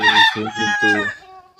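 A large local desi rooster crows once, loud and close, in a rural village setting, with the call trailing off into a thinner, fading tone.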